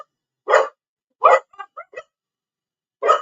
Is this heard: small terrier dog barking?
yes